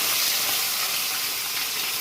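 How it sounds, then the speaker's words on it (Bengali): Fish slides into hot oil over fried onions and salt, giving a steady broad hiss of sizzling that holds evenly throughout, close and strong with no talking. "আর এবারে আমি এখানে মাছটা ছেড়ে দেবো।"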